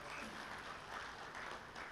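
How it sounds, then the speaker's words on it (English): An audience at a labour and employment summit gives a round of applause, a continuous faint patter of clapping throughout. "let's give you another round of applause"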